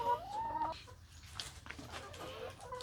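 Chickens clucking on a mixed farm with fruit, vegetables and livestock, a steady run of close, overlapping calls over a low background rumble, with no talk.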